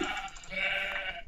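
A single sheep in a video game lets out a nasal, wavering bleat lasting about a second, close and fairly loud, with no other sounds around it.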